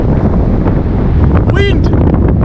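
Strong wind roars and buffets the microphone on the beach at Piha, New Zealand, a constant loud rumble, with a brief voice calling out partway through.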